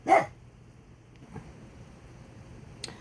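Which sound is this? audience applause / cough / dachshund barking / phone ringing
dachshund barking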